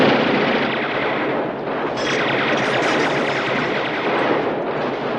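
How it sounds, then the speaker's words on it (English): Heavy gunfire and booming artillery in the war film The Big Red One roar in a dense, continuous barrage, loud and unbroken, with machine-gun rattle layered over deep rumbling blasts. "including extremely loud gunfire"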